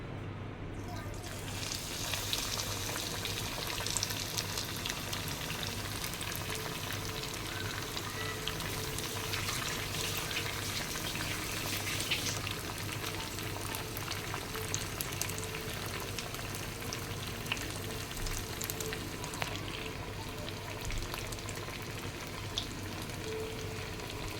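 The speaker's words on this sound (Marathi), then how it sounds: "आता हे आपण तळून घेऊया व्यवस्थित." Paneer nests deep-frying in a pan of hot oil, a dense, steady hiss and crackle of bubbling oil that carries on at close range for the whole stretch, with no talk over it.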